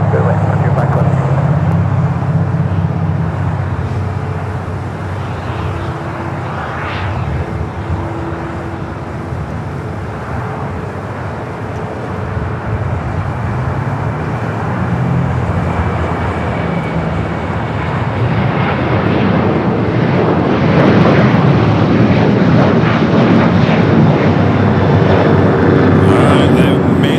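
Airliner taking off from runway 25 left at Los Angeles International Airport, a jet roar that swells from a distant hum to a loud, broad rush, with radio chatter faintly underneath.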